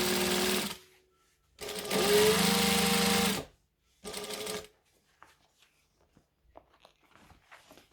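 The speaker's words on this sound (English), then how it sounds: "I'm also going to top stitch this" Topstitching fabric on a Hailie Jade sewing project, a sewing machine whirs in three bursts, the middle one longest, followed by quiet handling clicks.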